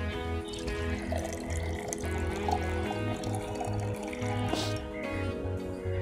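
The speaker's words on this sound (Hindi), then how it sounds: "तो सबसे पहले हमें एक गिलास में या किसी भी चीज़ में हम पानी डालेंगे।" Water poured into a glass, a continuous close splashing stream with rising fill tones, loud and steady throughout with no talking.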